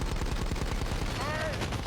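Rapid gunfire in the cartoon animal battle-royale game Super Animal Royale, a dense stream of sharp repeated shots with a brief whistling tone midway, loud and continuous.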